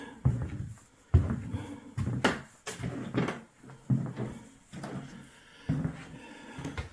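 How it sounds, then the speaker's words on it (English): A series of creaks and low squeaks from studio floorboards with the floor covering taken up, irregular and close, mixed with soft knocks and shuffling. "you can hear a lot more of the squeaks"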